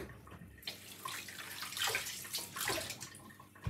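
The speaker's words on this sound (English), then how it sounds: "pour back the sea moss into it" Soaked sea moss poured back into a bowl of water while making sea moss gel, giving an irregular splashing and trickling that swells in two bursts over a few seconds, close and fairly quiet, with no talk.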